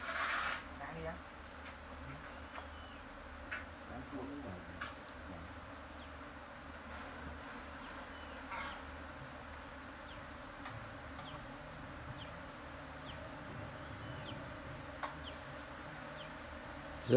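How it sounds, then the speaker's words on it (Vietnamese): Dense swarm of honeybees buzzing steadily around an open beehive during a honey harvest, a continuous close droning hum with no talk. "Rất là nhiều ong."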